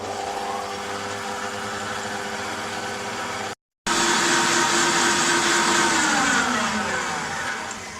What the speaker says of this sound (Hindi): 1 मिनट बस मैं इसको चलाऊंगी बीटर मशीन को